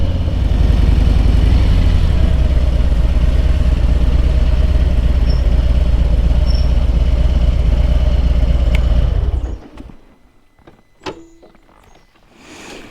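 A car engine hums loudly and steadily up close for about nine seconds, then cuts off, leaving near-silence broken by a few faint clicks and a soft mechanical clack.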